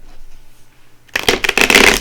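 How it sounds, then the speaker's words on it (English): Thin, flexible tarot cards riffle-shuffled close up: a quiet pause, then a loud, fast burst of flapping card clicks for under a second. "I'm going to shuffle this really good"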